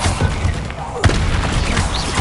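Bombarda spell blasts in Hogwarts Legacy, heard as a sharp booming impact around the one-second mark amid ongoing game effects and magical whooshes, with a voice calling out spells over the action.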